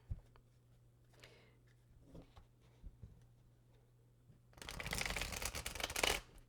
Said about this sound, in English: I'll shuffle the deck